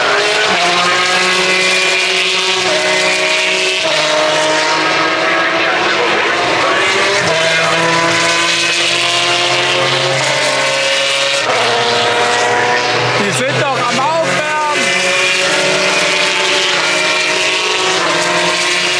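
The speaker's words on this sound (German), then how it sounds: "Formel 3, geisteskrank laut." Formula 3 race cars scream past at the Red Bull Ring in Austria, loud high-revving engines rising and falling as several cars pass in succession, with crowd and voices underneath.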